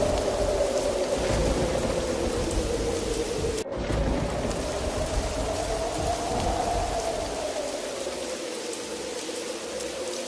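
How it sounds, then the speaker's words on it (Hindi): Heavy rain pours steadily in a dense, continuous hiss, with a low rumble of wind and storm underneath throughout. "तूफानी बारिश शुरू हो जाती है।"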